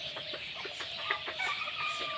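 A brood of about 350 Khaki Campbell ducklings peeps in many faint, overlapping chirps at a duck farm, a steady chattering chorus with some thin high calls.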